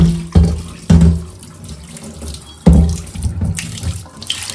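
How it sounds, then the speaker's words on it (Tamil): Running tap water splashes over a heavy cast iron kadai as it is scrubbed and washed at a kitchen sink, loud and close, with sudden surges as the stream hits the metal and splatters irregularly. "ஓகே, தேய்ச்சி நம்ம சுத்தப்பட்டு கழுவிட்டு தான் யூஸ் பண்ணணும்."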